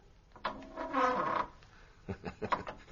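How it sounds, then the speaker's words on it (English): Old wooden nightingale floor in a radio drama scene, creaking and squeaking under footsteps: a long drawn creak swelling mid-clip, then a run of shorter, sharper squeaks and groans as further steps land, close and fairly loud. "It's what they call a nightingale floor."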